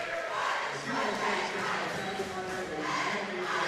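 Cate home crowd roaring and cheering steadily in a gym during a girls volleyball CIF Division 7 final, a dense, continuous wall of fan noise with no letup.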